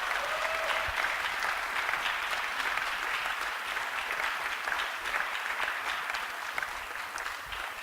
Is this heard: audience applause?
yes